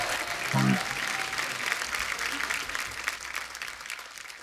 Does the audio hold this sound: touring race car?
no